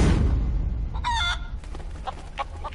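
Ninja chicken in Lego DC Super Villains clucking over a low rumbling game background, a sharp squawk followed by several shorter clucks.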